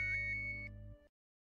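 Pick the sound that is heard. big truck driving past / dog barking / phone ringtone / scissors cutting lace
phone ringtone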